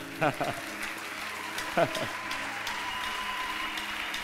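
Two short bursts of applause from a church congregation, each clapping for about half a second, separated by a pause, over a background of low sustained music or drone.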